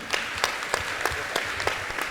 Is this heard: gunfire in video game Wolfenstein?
no